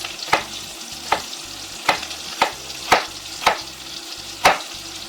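Meatballs frying in a pan, a steady close sizzle punctuated by about seven regular scraping stirs of a utensil, each a sharp burst roughly every three-quarters of a second.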